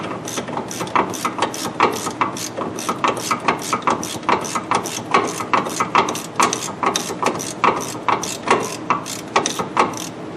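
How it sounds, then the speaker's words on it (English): A hand ratchet clicks steadily on front wheel hub bolts of a 2003 GMC Jimmy during a hub replacement, with a rapid, even train of sharp metallic clicks running throughout at close range. "This ratchet is pretty much unstoppable."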